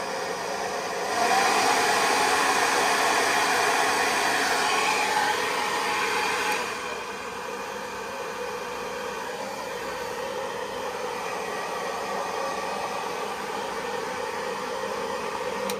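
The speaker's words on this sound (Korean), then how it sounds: "이런 부분 살짝 열 처리해 주면은 모양이 좀 더 잡히거든요. 그래서 이렇게 드라이기 가지고" A hair dryer blows hot air over a crocheted striped backpack with leather parts to reshape it. The steady, close whooshing rises at about one second, eases slightly around six seconds and keeps running to the end.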